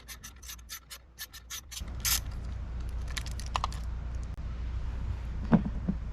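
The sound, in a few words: ratchet backing out 10mm bolt nuts on light bar mount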